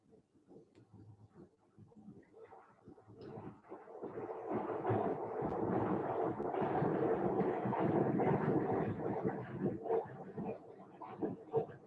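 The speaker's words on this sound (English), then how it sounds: "That's the subway going by." A subway train rumbles by, a faint, low, continuous roar that swells gradually and holds for several seconds before easing slightly, with no talking over it.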